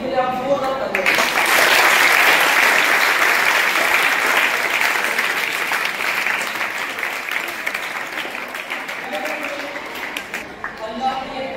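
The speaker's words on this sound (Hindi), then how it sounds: "इनके लिए आप जोरदार तालियां बजाएं" Loud, sustained applause from an audience at a school fire extinguisher demonstration, starting abruptly and continuing for about ten seconds before tapering slightly, with no speech over it.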